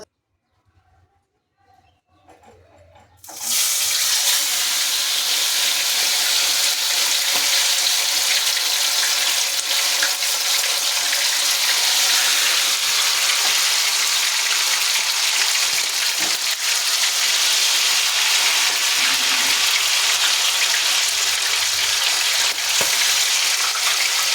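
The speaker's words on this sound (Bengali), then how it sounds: "এবার দুই দিকটা লাল লাল করে ভেজে নেবো।" Food frying in a pan, browned on both sides: after a few quiet seconds a loud, steady hiss of hot oil starts suddenly and continues evenly, close by.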